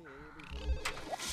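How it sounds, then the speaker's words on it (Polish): Telephone ringing in The Sims 1 video game, a faint electronic ring heard under game music and other background sounds, with a short chirp near the end. "Tam jakiś telefon."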